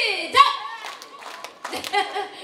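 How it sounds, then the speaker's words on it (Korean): A few scattered claps from an audience at a year-end gathering, soft and uneven rather than a crisp unison of three, mixed with a host's voice and light chatter nearby. "다시 한번 박수 세 번 시작!"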